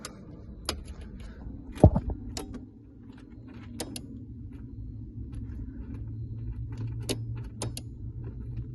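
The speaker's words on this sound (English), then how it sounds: "One of those relays is clicking." On a 1983 Datsun 280ZX, the fuel pump relay gives a handful of sharp, dry clicks as the key is turned, irregularly spaced over a low background rumble.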